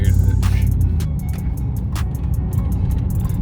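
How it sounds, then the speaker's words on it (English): Low rumbling engine of a Chevrolet Silverado pickup with a straight pipe exhaust, steady and close, with faint intermittent noises above it. "You can probably hear my truck with the straight pipe."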